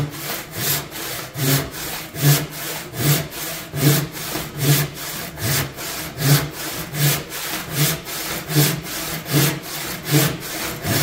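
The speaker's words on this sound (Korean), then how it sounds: "이쪽 면을 기준으로 해서 또 톱질을 해줘요" A hand saw cuts through wood in steady, rhythmic back-and-forth strokes, roughly two per second, close and clear with no talking over it.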